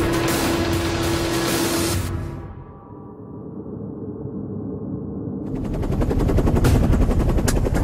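Helicopter door gun test-fired on the right side during a combat rescue flight: loud sustained machine-gun bursts over steady rotor and engine roar, a brief dip in the firing midway, then heavy bursts again with no voices.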